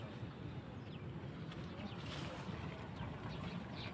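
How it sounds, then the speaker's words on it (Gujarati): Water pours steadily from a pump outlet, a continuous broadband rush that stays even and fairly close throughout, with no clear voices on top. "અહીં પાણી ચાલુ છે"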